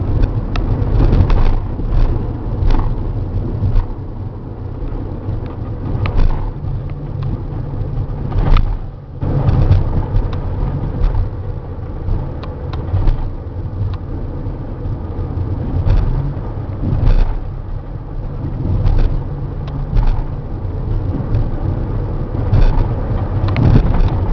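2008 Mercedes Sprinter 3500 cab chassis diesel van climbing a hill, a steady low engine drone with road and wind rumble heard from inside the cab, loud and continuous with occasional bumps.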